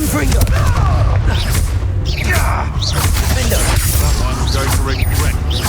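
A fiery Confringo spell blast in the Hogwarts Legacy video game booms amid a dense, continuous wash of combat noise, with in-game character voices talking over it.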